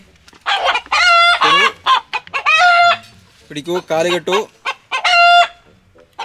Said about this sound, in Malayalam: ഇത് കാണാൻ കുറച്ച് രസമുള്ളൊരു പൂവൻ കോഴി